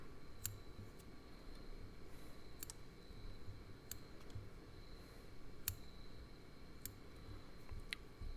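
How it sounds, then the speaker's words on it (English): Scissors trim a hopper fly at a fly-tying bench, making faint, sharp snips spaced about a second apart in a quiet room. "And then what I'll do is I'll come in with my scissors and kind of trim it."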